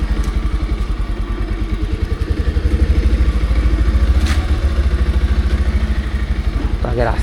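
A Pulsar 150 BS6 motorcycle creeps along slowly at the clutch biting point with no throttle, its engine thumping in a steady, close, mid-low rhythm throughout.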